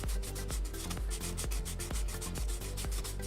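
Fine grit sandpaper rubbed on a GPU heatsink from an Asrock RX 5700 card in a steady back-and-forth rhythm of about two strokes per second, close up and dry with no talking.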